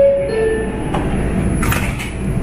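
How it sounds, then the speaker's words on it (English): Subway car sliding doors closing on an elevated train in the Bronx, a brief rumble and thud of the doors against steady train hum, with a short hiss and rattle following. "Stand clear of the closing sliding doors, please."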